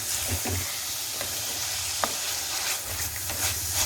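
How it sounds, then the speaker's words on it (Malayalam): Crab thoran ingredients being sautéed in a pan, a continuous close sizzle with stirring scrapes and occasional sharp utensil taps, moderately quiet and without speech. "ഇതിലിട്ട് അതിൻ്റെ പച്ചമണം മാറുന്നത് വരെ ഒന്ന് വഴറ്റി കൊടുക്കണം"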